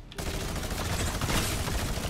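Dense, continuous gunfire from a Fortnite firefight rattles on without a break for about two seconds, loud and close, with no voices.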